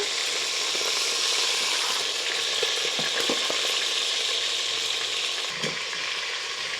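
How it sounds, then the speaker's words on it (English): Chicken thighs fry hard in an Instant Pot under a splatter screen, a dense, loud hiss of sizzling fat with scattered pops and a few faint metallic clinks, continuous and close. "Even with the splatter screen, they're still splattering all over the place."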